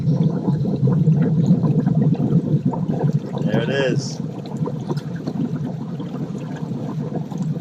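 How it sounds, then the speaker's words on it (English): Water gushes out of domestic plumbing pipes as they are drained for winterizing, a steady rushing flow that runs throughout while people talk over it. "A lot of water coming out."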